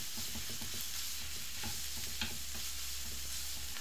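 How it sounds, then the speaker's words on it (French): Minced meat frying with onions in a pan, stirred steadily: a continuous close sizzle with repeated scraping and stirring strokes, no talking. "On mélange jusqu'à que la viande hachée soit cuite."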